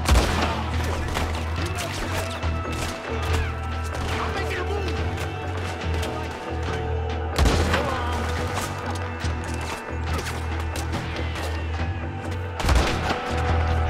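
Gunfire in Red Dead Redemption 2 as shots are aimed at dynamite, sharp bursts repeating irregularly over a dense game soundscape with a steady low drone, several louder cracks standing out.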